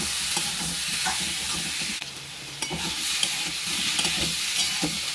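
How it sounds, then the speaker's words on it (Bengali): Vegetables frying with cumin powder in a pan, a steady loud sizzle with intermittent scraping and stirring clatter from the spatula throughout. "দিয়ে সবকিছু একসাথে মিশিয়ে ভালো করে ভেজে নেব।"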